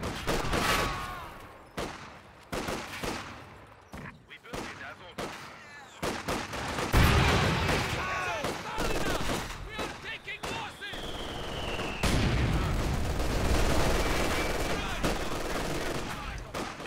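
LMG fire in the Company of Heroes 2 video game: repeated short bursts of automatic gunfire crackle in uneven clusters, growing denser and louder in the second half amid constant battle din.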